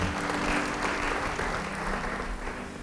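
Applause from a church congregation during a sermon, a steady wash of clapping filling the space for a few seconds at moderate level, with no speech over it.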